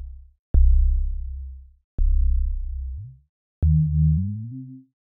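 A SubBoomBass 2 synthesizer plays three separate low, sustained bass notes, each starting with a sharp click. The last note shifts in tone as its filter cutoff is moved.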